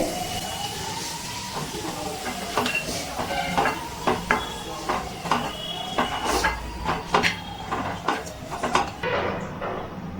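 Dried red chillies and garlic are lifted out of hot oil, with steady sizzling and frying under repeated clinks and scrapes of a utensil against a pan, close and moderately loud, with no talking.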